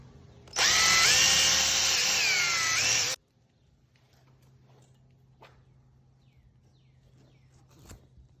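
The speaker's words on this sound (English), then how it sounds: "when you're drilling" A power drill bores holes for an electric cattle guard in one loud, steady burst lasting about two and a half seconds, then cuts out to quiet background with faint knocks.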